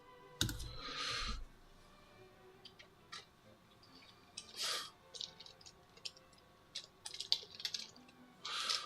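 Scattered computer keyboard clicks and taps come in irregular short bursts with pauses, fairly quiet and close, without speech.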